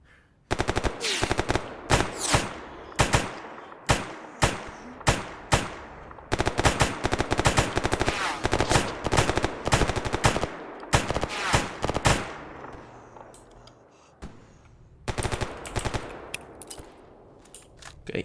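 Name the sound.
gunfire from the video game Escape From Pripyat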